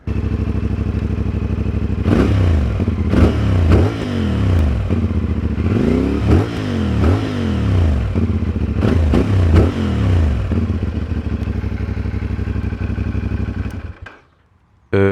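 A CFMOTO 450SR motorcycle on its stock exhaust idles with a deep, steady rumble, then gets several quick throttle blips that rise and fall in pitch. The engine is loud and close, and it cuts off abruptly near the end.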